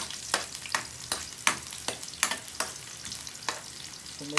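Chopped garlic sautéing in a pan until it browns, with steady oil crackle punctuated by regular sharp stirring scrapes about every half second, close and fairly quiet.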